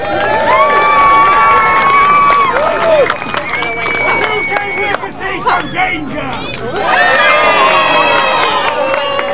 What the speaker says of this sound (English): can I get a cheer for skillful juggling,